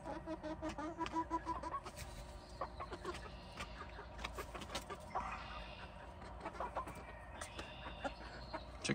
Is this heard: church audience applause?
no